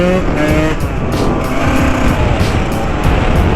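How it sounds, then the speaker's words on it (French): A Gas Gas motorcycle engine roars close and loud as the rider pulls a wheelie, a continuous rasping drone that holds at a high pitch for several seconds. "on va faire un petit wheeling de l'amitié comme on appelle"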